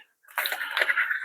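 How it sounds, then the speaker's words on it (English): Water is poured into a container while bogwood is prepared for repotting a juniper, a short splashing gush that starts abruptly after a brief pause and runs for about a second. "just put a bit of water in there."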